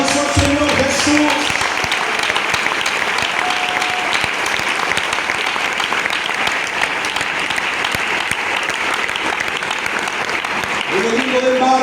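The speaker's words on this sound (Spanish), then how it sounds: "Dele ese aplauso al Señor Jesús." A church congregation claps loudly and continuously at a religious retreat service, a dense sustained round of applause with no pause, briefly joined by a voice at the start and end.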